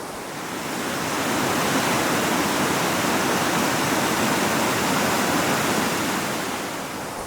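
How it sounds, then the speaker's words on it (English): A river near Lundy Road in Pottersville runs swollen and fast after a night of rain, giving a close, constant, full-bodied rushing roar with no other sounds. "water current is very strong, such that it obliterated the path."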